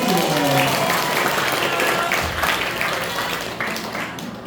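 An audience at an Indonesian school talk show on teenagers and nomophobia claps loudly at first, then the applause thins and fades, with voices talking over it.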